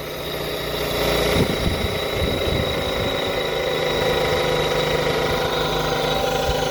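1994 Honda Civic engine cranking and catching, then settling into a steady rough idle with a mechanical rumble and faint rattle, close and fairly loud, no talk.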